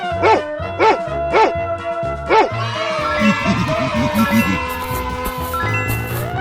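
A cartoon dog in a 3D animal slide game barks four times in a quick, loud series, then a run of softer yips follows under bright game music and chimes.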